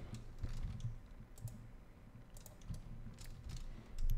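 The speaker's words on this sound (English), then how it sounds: "I actually type 2:14 on my like keyboard" Fingers typing on a computer keyboard while working in SketchUp: a few short bursts of light clicky keystrokes, close and fairly quiet, with pauses between them.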